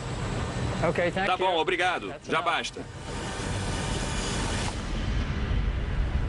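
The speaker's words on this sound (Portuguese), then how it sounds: "Eu não gostaria de estar numa sacada com esse vento no 120º andar." Strong wind of about 130 km/h roars on a balcony near the 120th floor of the Burj Khalifa, a loud continuous rush that a person's speech briefly rides over.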